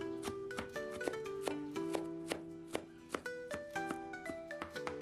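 Knife chopping mustard greens on a cutting board for gyoza filling, a steady run of close, crisp taps at a quick even pace, with a soft pitched tone underneath and no talk.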